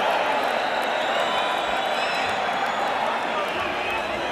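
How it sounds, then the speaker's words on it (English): A large arena crowd at a Mike Tyson boxing match applauds and roars, a dense, steady wash of clapping and cheering throughout, loud and distant-sounding. "the crowd is applauding the courage of Steve Zouski as much as they're applauding the efforts of Mike Tyson"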